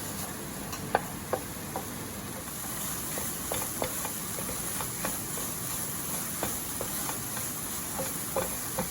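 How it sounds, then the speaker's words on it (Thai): Apple chutney sizzles softly in a pan as it is stir-fried until dry, with scattered light clicks of a utensil against the pan over a steady frying hiss. "อนนี้ก็จะผัดจนกว่ามันจะแห้งแล้วก็อันนี้เริ่มหนึบนะคะ"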